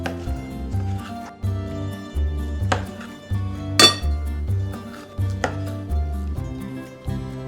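A knife chops tomatoes into large chunks on a cutting board for roasting into soup, with repeated heavy thuds landing in a steady rhythm. Close and clear, with a sharper clack partway through and no talking.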